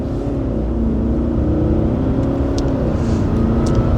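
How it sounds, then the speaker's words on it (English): An Audi A8 4.2 V8 TDI diesel accelerates hard, a loud, steady engine drone with rising harmonics heard from inside the car, without any talking. "In fact, we'll do an acceleration test."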